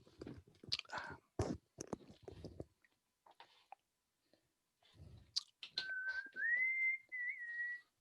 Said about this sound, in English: was a very tuneful whistle.